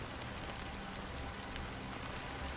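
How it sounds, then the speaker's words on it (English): Steady rain falls in Penacony within a video game, a soft, even patter of drops on surfaces with no break and no voices. "The sound of the rain is so comforting right now."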